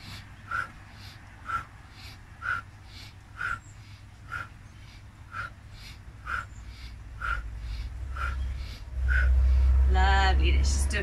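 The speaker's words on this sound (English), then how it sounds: "Nice strong breath." Strong rhythmic breathing in a Kundalini yoga exercise: about a dozen evenly spaced forceful breaths close by, ending in a longer louder rushing exhale.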